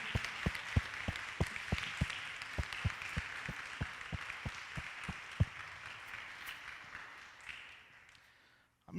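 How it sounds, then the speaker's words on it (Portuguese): A church congregation claps together in a steady, even rhythm that carries on for several seconds before fading away to near silence. "Você pode aplaudir a Jesus por isso."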